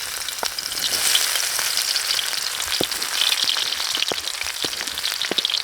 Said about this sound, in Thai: เวลาเราเจียวกระเทียมนี้นะครับ น้ำมันมันจะหอม